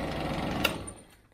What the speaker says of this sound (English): I didn't know if you could hear me with the sewing machine running in the background there.